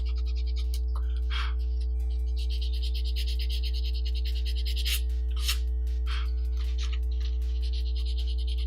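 Hand sanding of a figure, with rhythmic rasping strokes that come and go in short bursts over a constant low electrical hum.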